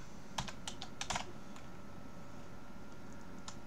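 A computer keyboard clicks softly in a short cluster of keystrokes, a few sparse taps trailing after it over a steady low hum, faint and nearby.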